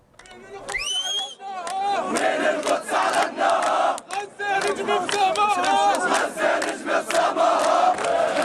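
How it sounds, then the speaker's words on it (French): Dozens of Palestinians celebrating together, loud overlapping chanting and shouted voices with ululating cries and clapping, a dense, close crowd sound that swells and dips continuously. "Des dizaines de Palestiniens qui applaudissent et chantent en guise de célébration."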